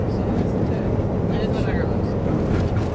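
Long road train being overtaken on a highway heading south from Darwin, heard as a loud, steady roar of engine and road noise from close by, with faint voices in the background.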